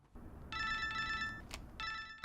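A telephone rings in two bursts of an electronic bell-like tone, the first lasting about a second and the second starting after a short gap. A brief click sounds between them over a low room hum.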